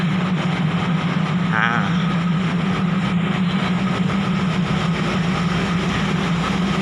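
A local diesel train's engine idles at a station stop with a steady low rumble throughout, a constant heavy drone with a faint hum on top and no voices.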